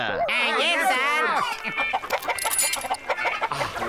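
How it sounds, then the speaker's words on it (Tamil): Several chickens cluck and squawk loudly as they escape, their excited calls overlapping in a noisy scramble, with people talking over them as they try to catch the birds. "எல்லாரும் சேர்ந்து அந்த கோழிகளை பிடிங்க பிடிங்க"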